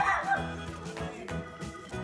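A small dog gives a few quick, yappy barks close by, with light ambient noise behind it; it is outdoors near a house in a Japanese hot-spring town.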